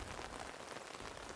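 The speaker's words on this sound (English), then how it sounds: "Rain suddenly begins to pour down on us." Heavy rain pours down steadily in a neighborhood street, a dense, continuous hiss of drops striking surfaces and umbrellas, loud and close with no voices.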